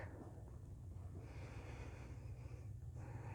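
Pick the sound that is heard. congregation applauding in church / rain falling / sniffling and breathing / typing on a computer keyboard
sniffling and breathing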